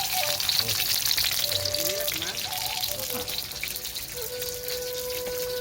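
Food crackles and sizzles steadily in a hot pan throughout, with faint voices in the background.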